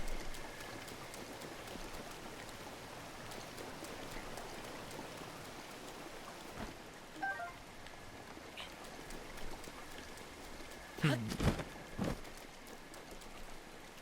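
Steady rain falls in The Legend of Zelda: Breath of the Wild, a soft even patter on the ground with a few brief sharper knocks and ticks near the end, and no talking.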